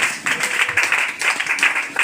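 A church congregation clapping in a French-language service, a dense, fairly loud patter of many hands that keeps going in waves for the whole moment, without any spoken words.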